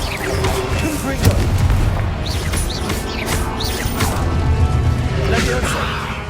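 Confringo explosion spells in the video game Hogwarts Legacy during combat: repeated loud booms and crashing blasts mixed with swooshing magic effects, dense and continuous throughout.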